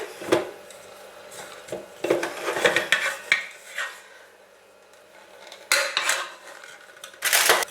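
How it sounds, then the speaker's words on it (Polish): A sturdy spoon works thick seeded bread dough, producing irregular scraping, knocking and clinking against a hard container, in clustered bursts separated by quieter pauses. "Biorę całkiem mocną łyżkę tutaj żeby ciasto zagnieść jeszcze przed przełożeniem."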